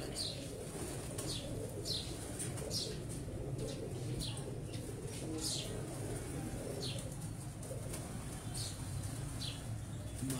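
Breeder pigeons coo in a loft, soft repeated throaty calls at a steady pace over a constant low background hum, fairly close but quiet.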